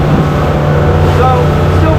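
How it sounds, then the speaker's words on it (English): Boat outboard motor droning steadily at sea on a rough crossing, a loud continuous low hum close to the microphone, with wind and a voice speaking over it. "I don't know if you can hear me over the drone of the motor"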